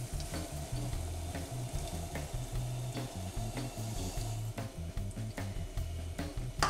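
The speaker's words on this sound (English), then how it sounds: "you are going to start putting in each of your cups of granulated sugar one at a time, stirring in between each cup" Granulated sugar is stirred into boiling water in a pot, a soft scraping stir repeating in uneven strokes over a steady bubbling sizzle, close and fairly quiet.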